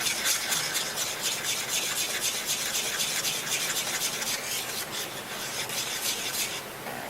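A spoon stirs and scrapes steadily through a thick gummy candy mixture in a pot, a continuous rasping rub with a quick repeating rhythm, close and fairly loud, no talking.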